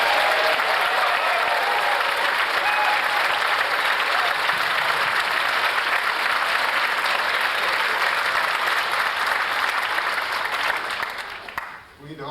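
Concert audience cheering and applauding for Uzbekistan at a Middle East ensemble performance, a broad, sustained roar of clapping and shouts held at a steady level for about eleven seconds before fading out quickly at the end.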